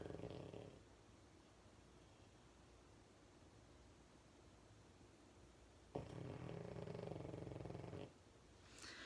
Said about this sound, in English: He snores so loud, it's not even funny.